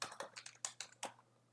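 A short run of computer keyboard keystrokes, clear and fairly close, tapering off after about a second.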